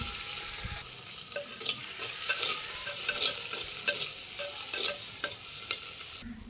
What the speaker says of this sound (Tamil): போட்ட எல்லாமே நல்லா வதங்கிருச்சு